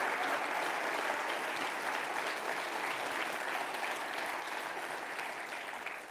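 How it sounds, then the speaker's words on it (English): Audience applause fills a town hall, dense and sustained clapping from many people at moderate distance that tapers off slightly toward the end. "let's keep that applause going for CJ, Katie, and Eugene, our 3 individuals who are brave enough to tell their stories"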